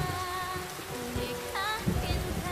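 Steady rain falls on surfaces nearby, a constant soft patter filling the clip, with faint tonal sounds drifting over it.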